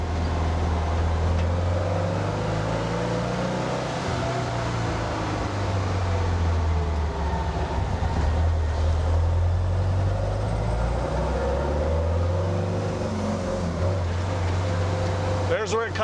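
An engine fitted with dual Weber 40 IDF carburetors runs steadily with a deep, close drone, its pitch rising and falling as the throttle opens, then stumbling and cutting out when more gas is given.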